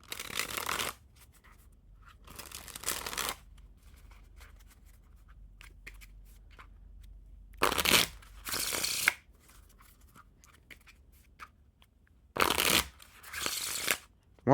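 A Papa Leons Wicked Donuts Strawberry Edition playing card deck is cut and squared by hand in short crisp bursts of riffling and snapping card stock, in three pairs separated by quiet pauses.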